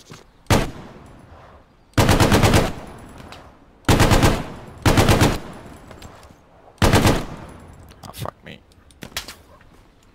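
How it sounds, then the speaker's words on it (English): A Bren machine gun fires in the World War II shooter game Hell Let Loose, loud sustained bursts repeating about five times with short pauses between, ending in a few scattered single shots. "I got a Bren gun."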